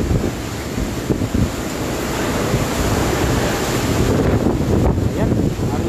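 Strong gusting wind from Super Typhoon Rolly (Goni) battering Naga City roars steadily and loudly into the microphone, a dense rushing buffet with surging gusts throughout.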